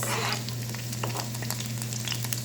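Onions sizzle and fry in hot oil in a pan for pancit bihon, a steady crackling hiss with small pops throughout, close by and alone.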